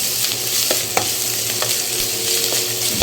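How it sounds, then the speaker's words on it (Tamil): Ginger garlic paste sautés in a pan for a crab and prawn curry, giving a steady sizzle with light scraping stirs throughout, fairly close and loud, with no voices. "இதில் இஞ்சி பூண்டு பேஸ்ட்டு சேர்த்துக்கலாம் இதே நல்லா வதக்கிடலாம்"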